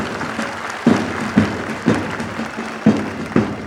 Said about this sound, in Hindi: दर्शकों से अनुरोध है कि तालियों की गर्जना के साथ परेड का